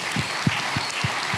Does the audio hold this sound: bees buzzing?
no